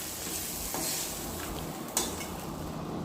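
Pabda fish pieces fry in oil in a kadai with a soft, even sizzle, and a few light utensil clinks and scrapes break in briefly.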